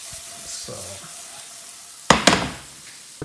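Pasta sauce paste fries in a pan, a soft steady sizzle in the background, then a spoon scrapes and stirs it in two or three loud close strokes near the end.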